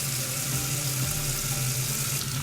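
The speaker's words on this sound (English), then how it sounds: "I'm gonna add just a glass of water." A glass of water pours into a soup pot while making keto zuppa toscana, a steady close splashing rush that runs unbroken for a couple of seconds.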